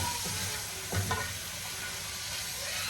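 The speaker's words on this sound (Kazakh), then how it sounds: "Жуамыз кішкене қуырылсын." Onions fry in a pan with a steady, soft sizzling hiss, broken by a couple of brief stirring scrapes.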